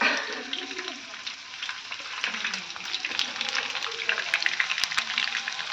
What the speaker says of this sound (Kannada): ಮೀನು ಫ್ರೈ ಆಗ್ತಾ ಇದೆ